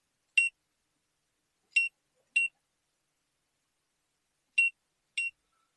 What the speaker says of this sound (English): I don't know why the sensor is beeping off.